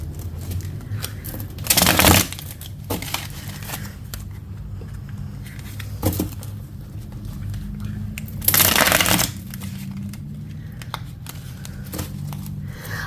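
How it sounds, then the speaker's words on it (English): A tarot deck is shuffled close up, with two loud riffle bursts standing out over softer card handling and light rustling throughout. "I'm gonna shuffle the deck really good."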